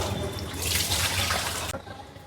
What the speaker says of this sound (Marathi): आता हातपाय धुवून घेतो